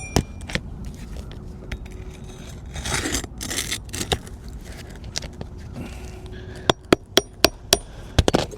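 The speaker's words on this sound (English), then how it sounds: "nails, put my framing hammer out" A framing hammer strikes nails into asphalt roof shingles during a repair, with scattered sharp taps and scrapes followed by a quicker run of distinct, fairly close blows near the end, with no talking.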